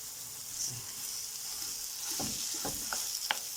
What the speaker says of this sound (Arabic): نضيف اللحمه بتاعتنا نقلبها